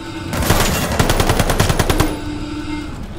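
Automatic gunfire from the Call of Duty video game, a loud rapid burst of evenly spaced shots lasting about two seconds, then a fading echo and low rumble.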